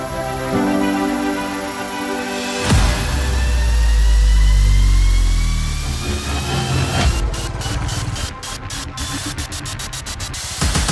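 A motorcycle engine drones and surges while riding off-road through a plantation estate, loud and continuous with a deep rumbling swell and rattling bursts toward the end.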